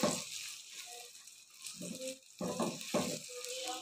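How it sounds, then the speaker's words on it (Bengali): Spices for jolpai olive pickle stirred and frying in a pan, with a steady close sizzle and intermittent rattling scrapes of the spoon, fairly loud throughout. "এবার কিছুক্ষণ নাড়তে থাকবো, একটু ভাজা ভাজা হবে।"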